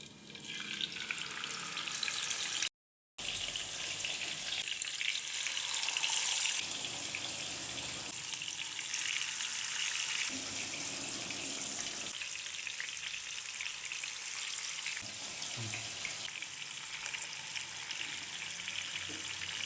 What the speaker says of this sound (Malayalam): ചൂടായി വരുമ്പോൾ ഫ്ലെയിം അല്പം കുറച്ച് ഓരോ കാടയും പതുക്കെ വെച്ച് കൊടുക്കാം.